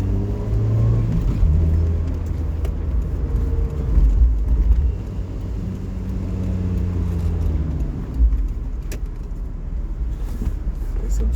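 Daihatsu Copen roadster driving through city streets, a steady low engine rumble with brief swells of revving as it takes turns, continuous and close throughout.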